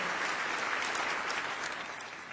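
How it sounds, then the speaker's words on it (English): An audience gives a round of applause to welcome a woman named Gwen, a steady sheet of clapping from many hands that tapers off slightly at the end. "Everyone give her a round of applause"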